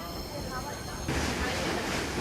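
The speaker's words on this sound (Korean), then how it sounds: "잠시 후 임진강을 건너는 열차." Gyeongui Line commuter train rolling over the Imjin River, heard as a loud, steady broadband rumble that grows harsher and denser partway through.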